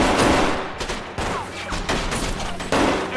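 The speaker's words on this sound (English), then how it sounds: "Everybody stop shooting!" Loud gunfire erupts in an action film, with heavy, repeated bursts and clustered shots that come in several close, forceful volleys.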